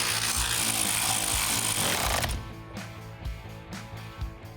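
Bolts cinched down on a 1970 Mustang rear axle chunk, starting with a loud continuous grinding power-tool whir that cuts off, followed by quieter rhythmic mechanical clunks and rattles up close.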